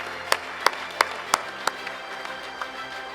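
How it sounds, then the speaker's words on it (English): A handful of separate, evenly spaced hand claps ring out at an award ceremony for sustainability in Pune, then thin into faint scattered claps over a low room hum. "Can we have a big round of applause for all of them here?"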